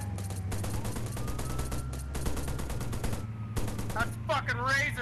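Rapid gunfire bursts crackle through a police chase video game, repeated shots layered over game engine noise, with a voice shouting over the action near the end.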